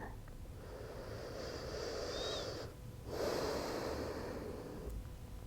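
Slow, deep breath taken during a yoga recovery routine after snowboarding, a long airy inhale and exhale with a short pause in the middle, close and fairly loud with a faint whistling edge, no talking.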